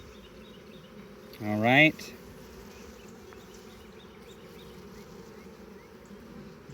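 Honey bees in an open nuc hive give off a soft, steady buzzing hum throughout, with a short spoken remark near the start.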